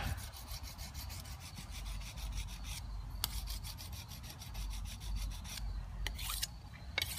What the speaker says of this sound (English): And I'm gonna hone with the big rock, just like this.